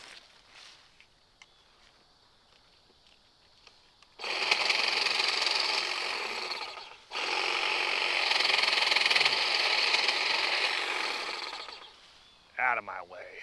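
A Dewalt 20V MAX cordless hedge trimmer snips small branches under an inch thick, a loud buzzing motor in two bursts of several seconds separated by a brief pause, with quiet stretches before and after.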